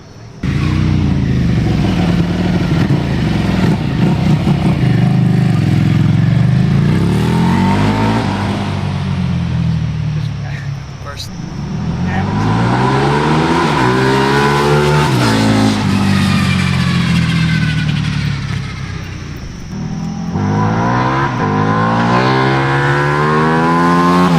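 A motorcycle engine on display at a museum revs hard repeatedly, climbing and falling in pitch, then drops off as the throttle is released, loud and close, with people talking faintly.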